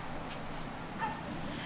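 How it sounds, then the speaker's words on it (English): Dogs at an outdoor dog park yip and whimper at a distance amid steady background noise, with a brief faint bark. "There's more dogs on that side though."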